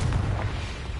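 Blasting-spell explosion in Hogwarts Legacy, a loud continuous low rumbling boom filling the whole second with no speech.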